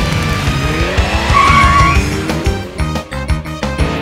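Race car engine in the Arthur! Ready to Race PlayStation game, roaring loud and close while tires squeal in a long skid, then rhythmic engine pulses and clatter toward the end.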